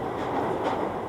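A London Underground subway train runs with a steady, moderately loud rumble and rattle, with no talk over it.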